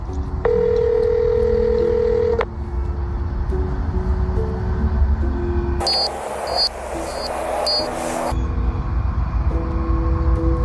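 A phone call being placed: a steady dial tone sounds alone for about two seconds, then a series of keypad dialing beeps and a louder ringing stretch follow, with no one speaking.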